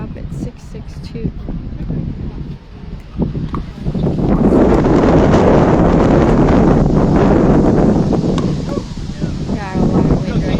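Strong wind gusting across an outdoor pickleball court during a men's 3.5 match at a regional tournament, roaring loudly against the microphone from about four seconds on, with a voice heard beforehand.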